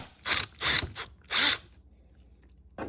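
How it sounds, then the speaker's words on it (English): A Phillips head bit loosens a screw on the air filter cover of a 2001-2005 Honda CR-V, giving three short bursts of ratcheting, clicking turns close up. A brief tap follows after a pause. "Using a Phillips head bit, go ahead and loosen up this."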